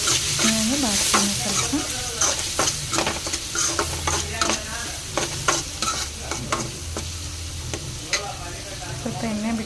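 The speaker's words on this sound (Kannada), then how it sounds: "ಸ್ವಲ್ಪ ಎಣ್ಣೆ ಬಿಟ್ಕೊಂಡು ಮಾತ್ರ ಅದನ್ನು ಕ್ಲೀನಾಗಿ ಫ್ರೈ ಆಗಿ" Prawns fry in oil in a pan with tomato, salt and chili powder, giving a steady close sizzle broken by frequent scraping stir strokes throughout, with a voice briefly audible in the background.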